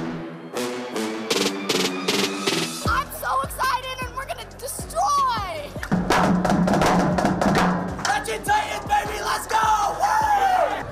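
A school crowd at a clap out sending teams off to regionals and state, yelling, whooping and cheering loudly, with rhythmic drumming at the start and excited voices overlapping throughout.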